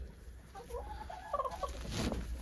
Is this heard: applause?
no